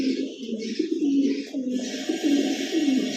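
Lahori pigeons cooing steadily at a loft, a pair of repeated low throaty coos rolling one after another, close and clear over a faint hiss of background noise.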